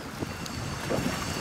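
Stormy wind buffets a motor boat on rough water, a steady loud roar of gusts and water splashing with no speech.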